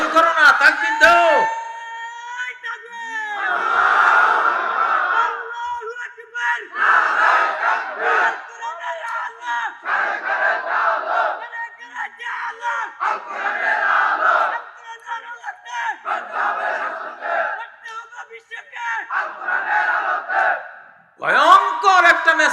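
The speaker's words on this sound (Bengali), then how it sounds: "দাও তাকবীরটা দাও।" A large crowd at an Islamic sermon roars the takbir, Allahu Akbar, in repeated loud collective shouts after a preacher's call, wave after wave with short pauses between.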